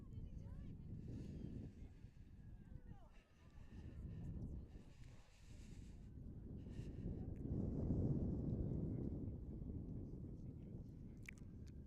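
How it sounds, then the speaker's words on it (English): Strong, gusting wind roars outdoors at a cold girls' lacrosse game, a continuous low buffeting rush that swells and eases, with faint voices underneath. "The wind is relentless today."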